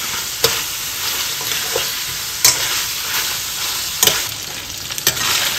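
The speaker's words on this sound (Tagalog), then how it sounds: "Ito po yung tinatawag na mag-isa sa sariling mantika." Fatty spare ribs fry in their own rendered fat while being stirred, a loud continuous sizzle close by, broken by several sharp scrapes and clanks from the spoon against the pan.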